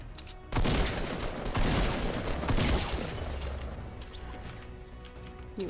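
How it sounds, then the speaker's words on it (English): Minigun fire in the video game Fortnite, loud dense bursts of rapid shots in several surges that fade into a rattling tail. "You and your little mini gun, huh? Trying to get me when I was trying to do some deforestation?"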